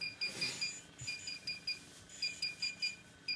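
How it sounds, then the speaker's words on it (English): Two sets of electronics beep in a bedroom: a USB stick and a DJI Phantom 3 drone with its controller, updating. Short high-pitched beeps repeat in quick, overlapping rhythms, clear and close. "This one's beeping also. So now I've got two beeping electronics in my bedroom."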